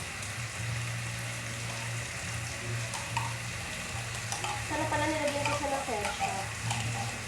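Corned beef fries and is stirred in a pan, a continuous close sizzle with scraping stir sounds and a low hum underneath, and no clear talk.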